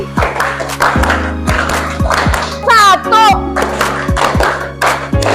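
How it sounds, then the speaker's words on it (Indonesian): A middle-school class claps in a quick, patterned rhythm during a lesson: sharp, close claps in short groups over a steady musical drone, with a voice briefly heard. "Siap ya? Tepuk 4 2 kali."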